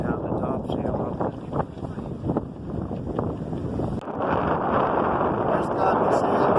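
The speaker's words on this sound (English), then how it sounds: "Got a nice strong breeze blowing" A strong breeze roars steadily across a sailboat under tight sails off Golfito, Costa Rica, heard from the front hatch as a loud, continuous rush of wind buffeting the microphone.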